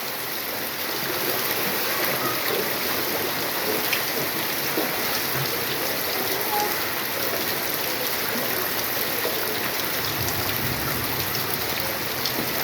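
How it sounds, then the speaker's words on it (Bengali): Steady rain pours on a flooded street in Munshipara, Sylhet, a constant close hiss of drops on water with no voices. "সহজে মনে হয় না বৃষ্টি থামাবে।"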